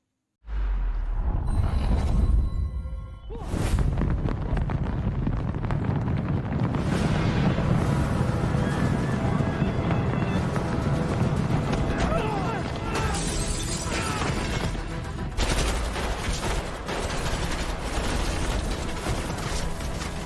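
Gunfire in a zombie film attack scene comes as dense, continuous bursts and shattering impacts under a loud action soundtrack, while a narrator talks over it.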